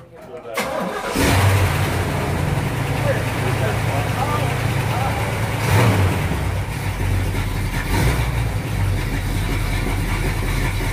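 A 1967 Pontiac GTO V8 cranks and catches, then settles into a loud, rumbling idle close by with a few blips of the throttle, while people talk over the engine.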